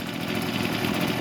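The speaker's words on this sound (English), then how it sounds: "This idling, it ain't too loud, just idling" A Husqvarna 125B gas leaf blower engine idles steadily, a continuous, moderately loud buzzing drone with a slight warble and no changes in throttle, heard alone.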